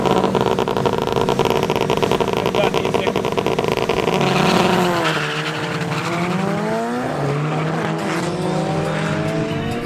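A Honda Civic and a Cupra at a drag race at Midvaal Raceway, engines roaring loud and continuous, then pitch sweeps rising and falling through gear changes as the cars pull away.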